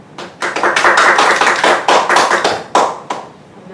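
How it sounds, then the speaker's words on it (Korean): Short burst of audience clapping at a Korean housing-rights panel discussion, welcoming the first presenter; dense, fairly loud hand claps with uneven swells and a few sharp accents before fading out. "박수로 맞아주시기 바랍니다"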